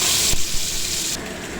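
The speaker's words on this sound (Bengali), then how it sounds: "তা এখানে আলুটা ভাজছি, আলুটা ভেজে নিই।" Potato pieces frying in hot oil in a pan, a loud continuous sizzling hiss that dips slightly partway through, with no speech.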